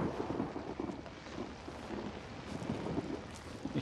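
Rain and distant thunder from the horror video game Outlast, a faint, steady patter with low rumbling swells underneath, continuous and without speech.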